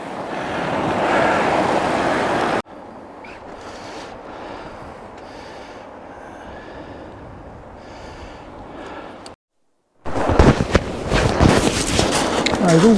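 Sea waves break and wash on a sandy fishing beach, a loud rushing surf mixed with heavy wind buffeting the microphone, dropping quieter midway before a short silence and a renewed roar.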